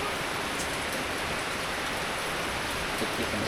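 Steady rain falling outdoors in a Thai village setting, a dense continuous hiss of drops on surfaces that stays even and fairly loud throughout, with no voices.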